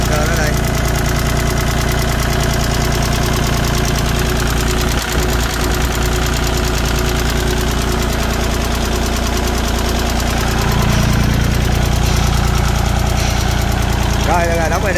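A Kubota L3608 compact tractor's diesel engine runs steadily close by, a loud continuous idle with a knocking throb that deepens and grows slightly louder near the end, while people talk over it.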